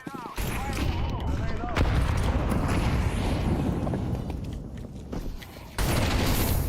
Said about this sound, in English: Throw flashbang.